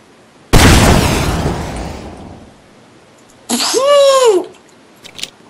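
An RPG rocket fires and explodes in the Roblox game Jet Wars: a sudden loud blast with a roaring rumble that fades over about two seconds. A short whooping, voice-like cry follows, then brief faint ticks.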